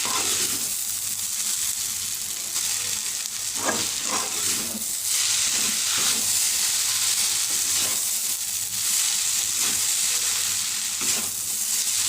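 Chowmein noodles fry in a hot pan while being slowly stirred, giving a constant loud sizzle with occasional scraping and shuffling sounds from the stirring.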